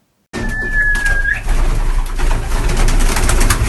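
Pigeons cooing close by, soft repeated throaty coos over a steady background hum.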